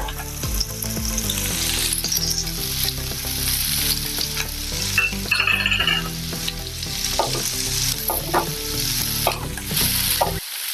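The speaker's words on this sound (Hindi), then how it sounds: "अब इसमें हम प्याज डालेंगे।" Chopped onions frying in hot oil with mustard seeds and cumin for oats upma give a loud, continuous sizzle close by, with stirring scrapes throughout and no talking.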